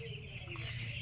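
Chickens on a poultry farm cluck steadily in a faint background chorus under a low hum, with no clear single close call.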